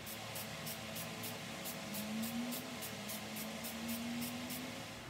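Light, even coats of spray paint are applied around a Ruger American rifle in faint, steady hissing bursts close by, with no talking.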